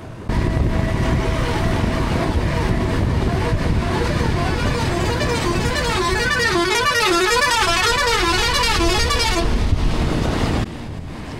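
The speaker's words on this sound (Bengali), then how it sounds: "এইটা হচ্ছে ওয়েস্ট বেঙ্গলের বাস সার্ভিস।" A West Bengal bus sounds a loud, warbling horn for several seconds, close by on a busy morning road, over steady engine and traffic noise.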